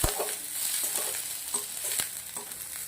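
Cabbage and mixed vegetables sautéing in a pan with little oil, a continuous hiss of frying with repeated spatula taps and stirring scrapes, close and fairly steady, no voices.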